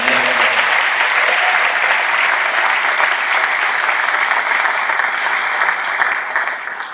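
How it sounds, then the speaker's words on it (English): Sustained applause from a school band concert audience fills the room, a dense, steady wash of clapping that holds loud and even before easing slightly at the end. "Would you give them a round of applause?"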